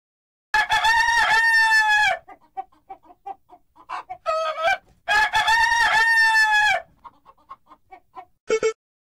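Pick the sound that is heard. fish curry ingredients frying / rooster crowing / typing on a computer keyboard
rooster crowing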